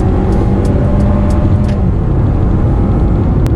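A Mercedes A-Class sedan with a 2.0 turbo engine pulls hard under acceleration, its loud steady drone and road rumble heard from inside the cabin, uninterrupted and without talk.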